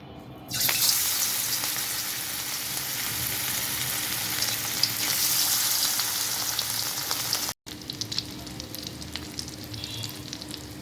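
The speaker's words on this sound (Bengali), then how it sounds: "কাবাব ভাজার জন্য প্রথমে একটা কড়াইতে দিয়ে দিচ্ছি সরিষার তেল।" Fish kebabs on skewers fry in mustard oil in a wok, giving a loud, continuous sizzle that starts after a short quiet moment, then a brief cut before softer crackling resumes.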